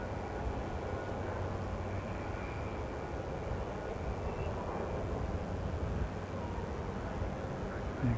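An airliner descends toward Guernsey airport (GCH), a steady distant engine roar with a broad low rumble that holds level throughout, no talking over it.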